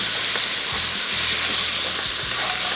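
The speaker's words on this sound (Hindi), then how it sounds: "इसको थोड़ा फ्राई करते गए" Vegetables stir-frying briefly in a hot pan for Shanghai chicken: a loud, steady, steamy hiss with a few dull low knocks from the pan.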